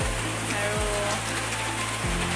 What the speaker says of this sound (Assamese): এতিয়া বৰষুণ দিছে